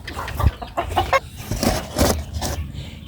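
Chickens cluck and squawk close by in short bursts during an egg harvest, several birds overlapping with rustling in the background.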